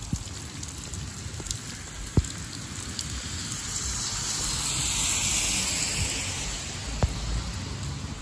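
Steady rain falling on a cold, wet day, an even outdoor wash with a few sharper drips and taps standing out.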